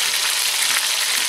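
A beef pot roast sears in a very hot pan, giving a steady, bright, crackling sizzle that stays even and close throughout, with no voices.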